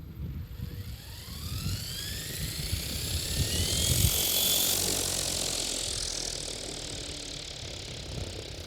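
RC helicopter switching into fail-safe mode, its rotor and motor whine sweeping up in pitch and settling into a steady loud hum with whirring blade chop, heard close without speech.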